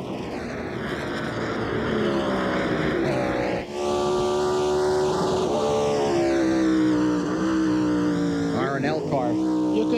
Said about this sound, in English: You could hear the rev limiter come in at just in high gear there.